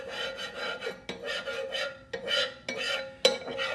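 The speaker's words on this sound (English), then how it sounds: "I just get my cooking oil and I use that to get in here and scrape up the bits of bacon." A metal scraper pushes bacon bits across a hot restaurant griddle slicked with cooking oil, giving a run of rhythmic rasping strokes, each a short scrape followed by a sharp tap, close and clear with no voices.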